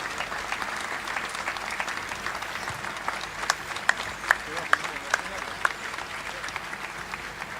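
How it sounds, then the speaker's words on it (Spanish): A congregation at an outdoor beatification ceremony in Piedra Blanca, Argentina, gives the event organizers a steady, somewhat distant round of applause, with a few sharper individual claps standing out and speech over it. "Fuerte ese aplauso para todos los que han trabajado."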